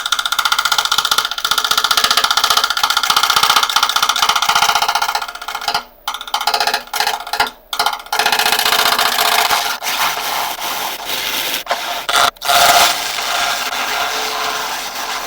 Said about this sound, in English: try and get the speed up on the lathe a little bit higher, and just do some finishing cuts on this top area